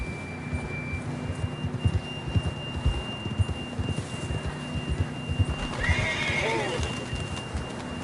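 A horse whinnies in the Red Dead Redemption 2 game world, a rising and falling neigh near the end, over hoofbeat clip-clop, steady ambient tones and game background noise.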